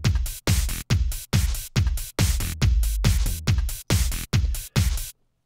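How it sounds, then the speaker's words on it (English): A layered basic drum beat with an added extra kick: punchy, evenly spaced hits in a steady groove, with a deeper booming kick swelling in the middle, loud, dry and close, ending abruptly. "So this is my basic drum beat."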